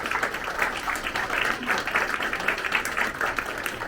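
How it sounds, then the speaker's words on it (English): Enthusiastic audience applause at a World Parkinson's Day talk, a continuous dense clatter of many hands at steady loudness throughout. "Please give a big round of applause."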